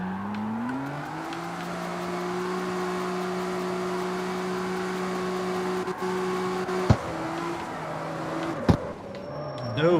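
Car exhaust in the CarX Street driving game drones steadily under engine load, with a sustained tonal hum that rises early and holds, broken by a few sharp knocks near the end.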